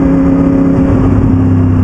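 A loud, close engine of a 2011 Aprilia Tuono motorcycle with a full Aprilia exhaust system drones at a steady, throaty pitch with a slight rise partway through, filling the short clip without any voices.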